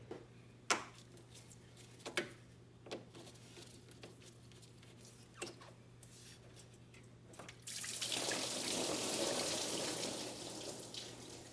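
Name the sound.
coolant leaking from hose into drain container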